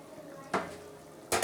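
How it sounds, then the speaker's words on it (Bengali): Bata fish pieces go into a boiling mustard and poppy seed curry in two short, sharp splashing bursts over a low bubbling background. "দেখুন ঝোলটা ভালো মতো ফুটে গেছে এবার আমি এর মধ্যে বাটা মাছগুলো দিয়ে দিচ্ছি"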